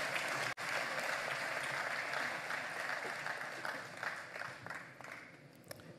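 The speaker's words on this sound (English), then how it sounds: "Give him another round of applause, if you will." An audience at an election results announcement applauds at length, a broad, steady roar of clapping that tapers slightly toward the end, broken by one sharp cut near the start.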